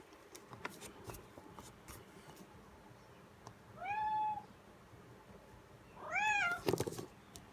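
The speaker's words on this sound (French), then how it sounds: "rien que la voix de mon chat" A house cat meows twice, a few seconds apart, close by in a quiet room, over faint scratching and rubbing from brush painting.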